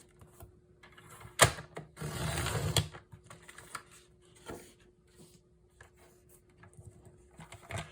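A paper cutter slices through a sheet of patterned paper: a sharp snap followed by a second-long scraping slide of the blade, with faint handling clicks before and after in a quiet room.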